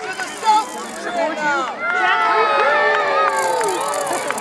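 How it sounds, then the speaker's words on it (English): South supporters cheer at a medieval joust, a loud crowd of voices shouting and whooping that swells after a brief lull and keeps going to the end. "The supporters of the South to cheer"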